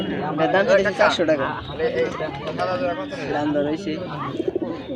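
Domestic pigeons coo at a busy weekly pigeon market in Nagarpur, their calls mixed into constant crowd chatter and bargaining voices close by.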